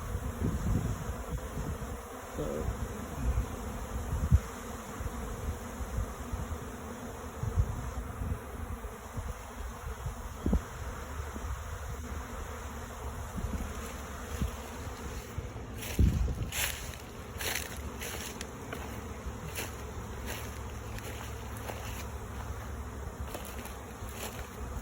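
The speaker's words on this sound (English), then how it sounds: "Now you can even see how many more bees are accumulating on that cedar tree." A honeybee swarm, leaving its hive during an inspection and gathering on a cedar tree, fills the air with a dense, continuous buzz. The drone stays steady and close, with occasional louder passes of individual bees.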